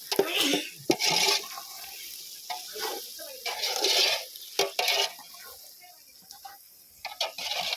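Chicken biryani is stirred in a large pot during a village cookout, with irregular scraping and sloshing strokes of a ladle against the pot amid a soft bubbling sizzle, while people talk nearby.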